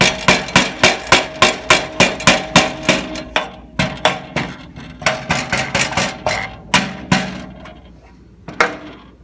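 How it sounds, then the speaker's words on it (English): A small hammer taps on front end body parts of a 1971 Chevelle, striking about twenty sharp, ringing metallic blows in a quick even rhythm that slows and spreads out toward the end. "I'm gonna grab my little tappy hammer."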